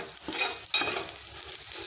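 Cumin and turmeric powder are stirred into fried green chillies in an oily pan, a spoon scraping in a few quick strokes over a soft, bright sizzle; close up, no voices.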